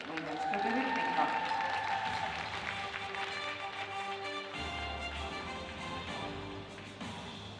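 Audience applause for the winners of a ribbon routine at an Estonian rhythmic gymnastics championship final, steady dense clapping from a crowd in a hall, with a voice talking over it at times.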